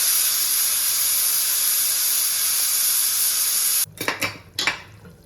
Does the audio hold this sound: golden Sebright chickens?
no